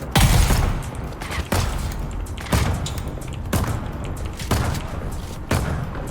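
Rapid gunfire erupts in bursts during a player-versus-player fight in the game Dune Awakening, with snipers firing on the player; loud, repeated sharp cracks recur roughly every second over a steady noisy backdrop.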